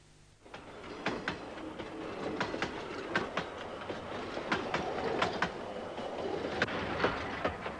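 A train runs on the cane-country railway outside Cairns, Australia, with steady rolling rumble and repeated sharp rail clicks spaced through the run, fairly close and continuous with no talk.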